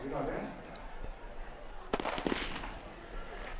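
A single sharp starting pistol crack goes off at a distance over crowd murmur and a stadium's background hum, starting 5000 m men's and 3000 m women's race walks at an athletics championship.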